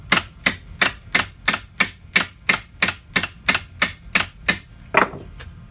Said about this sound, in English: You hit steel on anvil.